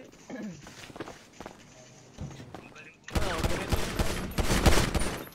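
Gunfire in a GTA video game: scattered shots at first, then a loud, dense burst of rapid automatic fire through the second half, with voices talking over it.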